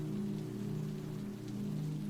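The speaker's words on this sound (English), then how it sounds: "You could watch the rain a little longer." Steady rain falls on an awning with an even, constant hiss and patter. A low, continuous hum runs underneath, and no one speaks.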